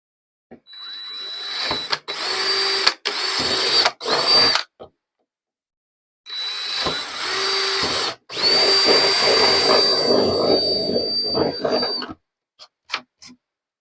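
Power drill boring pilot holes through a couple of layers of material for a homemade air conditioner, with whirring, high-pitched runs in several stops and starts, then one long sustained drilling pass and a few faint clicks at the end.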